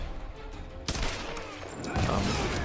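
Gunfire in the 2013 video game Tomb Raider: a sudden loud burst of shots after a quiet stretch, followed by continuing bangs and combat noise, with no talking.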